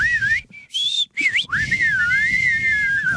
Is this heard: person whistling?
yes